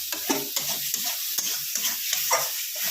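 Ginger and garlic frying in oil while being stirred in a pan: a bright sizzle broken by a series of close, rhythmic spoon scrapes and clacks, with no talking.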